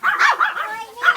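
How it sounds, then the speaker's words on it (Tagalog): Dogs bark in a short burst of a few close, sharp yips and bow-wows that run one into the next, fairly loud against an otherwise quiet background. "ayan ayan ang mga aso guys"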